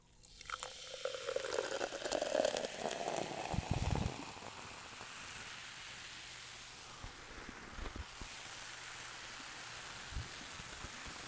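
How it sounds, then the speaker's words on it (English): Diet Coke is poured out, giving a few seconds of steady fizzing splash that then stops, leaving a quiet room with a couple of small knocks. "Let me pour out this Diet Coke"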